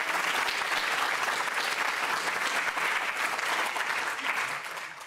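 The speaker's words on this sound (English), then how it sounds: "So can give them a round of applause for them." A large audience at a neuroscience lecture applauds the speakers with thick, sustained clapping, the sound steady and full throughout before tapering a little at the very end.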